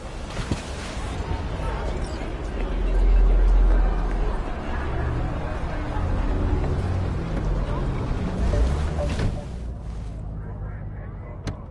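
A factory-new car drives in Cyberpunk 2077, its engine droning and roaring continuously with surges in intensity, then cutting off near the end.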